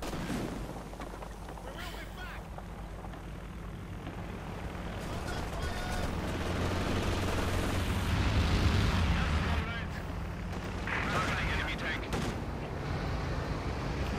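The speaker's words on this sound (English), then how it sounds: "And a strafing run there for Lucky Luke and the Luftwaffe" An aircraft strafing run in the Company of Heroes 2 war game brings rumbling bursts of gunfire and explosions that swell to a heavy peak midway before easing, with someone talking over the battle noise.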